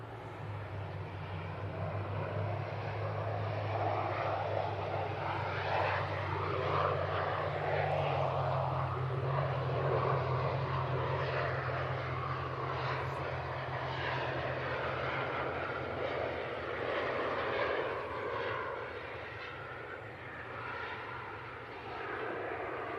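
A propeller aircraft at Manchester Airport drones steadily for over twenty seconds, with a low engine hum and throbbing prop tone heard at moderate distance, fairly quiet and unbroken by talk.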